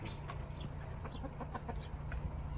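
Native Korean chickens cluck softly in a coop, a series of short, scattered calls over a low steady background hum, fairly faint and close by.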